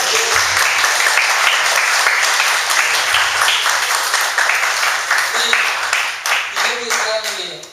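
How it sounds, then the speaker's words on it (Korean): Congregation applauding in a church during a New Year's Eve service, a dense, steady wash of many hands clapping close by for several seconds before thinning out toward the end. "박수 한번 주세요"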